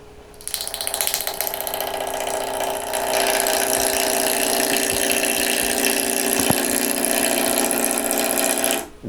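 A wood lathe gouge cutting a swirled-grain wooden egg, giving a steady loud whirring, scraping cut that runs continuously with faint ticks and no talk.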